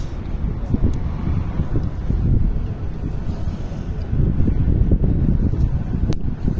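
Wind rushes and buffets across the microphone outdoors, a steady low roar with gusty swells that holds for the whole stretch, loud and close with no talk.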